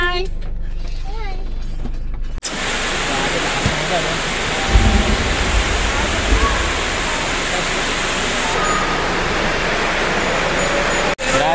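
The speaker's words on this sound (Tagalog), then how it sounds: "Grabe ang lakas ng ulan" Heavy rain pours down on an outdoor court during a wake, a loud, steady hissing roar that starts abruptly after a couple of seconds and continues, with voices talking beneath it.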